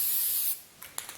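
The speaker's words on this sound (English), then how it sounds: "I'm using spray lacquer." Spray lacquer hisses steadily from an aerosol can for about half a second, close and loud, then cuts off, followed by a few faint taps and clicks.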